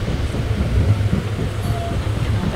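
The Howrah–Purulia Superfast Express rolls along with a loud, continuous rumble and rattle of wheels and carriages, heard from inside the moving train.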